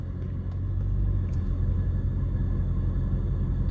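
A 2008 Mercedes S63 engine runs steadily after being shifted into drive, a deep, even low rumble at constant revs with no voices over it.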